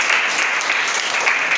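Students in an English class applaud classmates after a role play, a steady broadband patter of many hands clapping together for under two seconds, fairly close and uniform.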